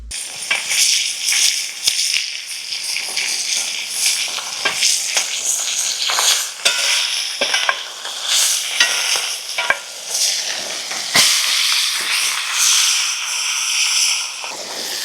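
Steak sizzles and crackles steadily in a pan at a solo truck campsite, a loud continuous frying hiss with frequent sharp pops, and no talking.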